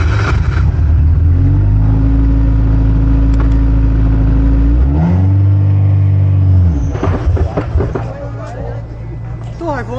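A Formula 4 race car engine holding a steady loud drone, its pitch sliding as revs are held and shifted, close and dominant, with an instructor speaking over it.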